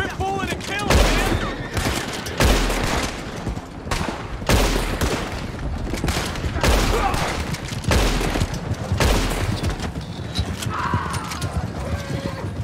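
Gunfire in Red Dead Redemption 2 Online on PS5 cracks out in repeated loud, close shots at uneven intervals, mixed with galloping hooves and a horse's whinny, while a player talks over the action.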